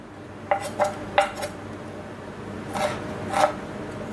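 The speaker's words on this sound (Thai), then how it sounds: "จะหั่นขิงเอาไว้โรยเนื้อ" A knife taps and chops against a board, slicing mature ginger into strips in short bursts, a quick group of cuts followed by a pause and two more, close by with no talking.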